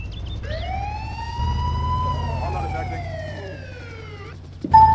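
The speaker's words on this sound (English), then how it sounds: "there's a shitload of sirens going on around here" Video game emergency vehicle sirens wail in a long rising and falling tone over a low engine rumble, with other sirens mixed behind it, ending in a brief louder burst.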